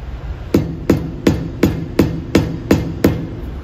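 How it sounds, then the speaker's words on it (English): Copper- or rubber-tipped hammer tapping the spinners tight on the wire wheels of a Triumph 12/50, eight evenly spaced solid knocks at a steady rhythm, close and prominent with no talking. "With wire wheels, you need a special hammer, which is either tipped with copper or rubber, to get the spinners on and off"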